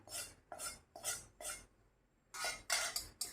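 Puffed-rice chivda being tossed with its oil and spice tempering in a vessel, a series of rhythmic rustling, scraping mixing strokes, close and fairly quiet, with a short pause midway.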